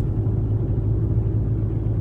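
A car driving along the mountain road to Rila Monastery, heard from inside as a steady, loud low rumble of engine and tyres with no break.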